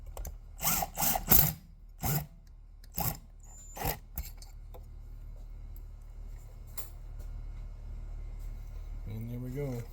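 Ratcheting clicks of a torque wrench rechecking a bolt on a Stihl 034/36 chainsaw during piston ring installation, a quick burst of several close mechanical ticks then a few spaced clicks, with a quiet voice at the end.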